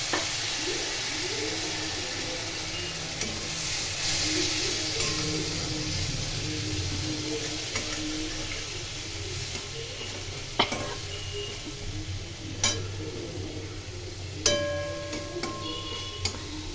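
Spices fry in a pan for a Bengali-style fish curry, a loud continuous sizzle and hiss with occasional stirring knocks and clinks, while water being added is not clearly distinct.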